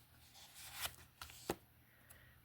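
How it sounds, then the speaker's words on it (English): Tarot cards being handled and laid out on a surface, giving a few soft, brief snaps and slides spaced about a second apart, quiet and close with no talking. "Lay out the first card."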